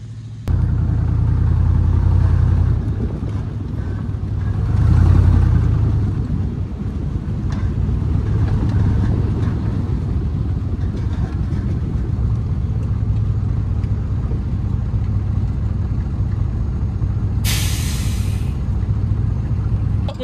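A truck grinds along a tight trail while salvaging old equipment, its steady close engine rumble running throughout with brief rises in effort, and a short high hiss near the end.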